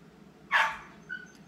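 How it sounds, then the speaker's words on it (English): Eddie the dog lets out a single loud, sharp bark indoors in a bedroom, followed by a fainter short yip; no one talks. "He's barking because he's in my bedroom."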